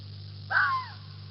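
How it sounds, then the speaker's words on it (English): Single harsh, hoarse bark from a gray fox, rising then falling, heard once over a low steady electrical hum, moderately loud and fairly near, no talk. "It's the sound of a gray fox barking."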